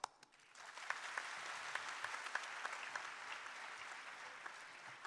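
An audience of students at an interactive session in Srinagar breaks into steady, sustained applause with a few sharper claps standing out, a dense crowd sound heard at moderate distance.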